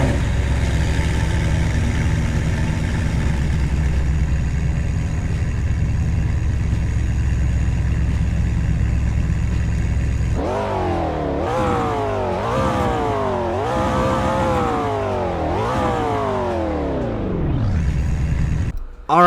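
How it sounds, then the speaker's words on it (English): A McLaren MP4-12C in the Greenville video game idles steadily, then revs repeatedly in several rising and falling sweeps, loud and close, with no talking. "So Fair, go ahead and start up your base model MP412C."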